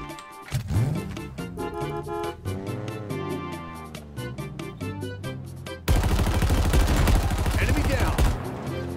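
Video game gunfire from Halo Infinite, a rapid burst of loud shots in the second half after a stretch of music and voices, sustained and close.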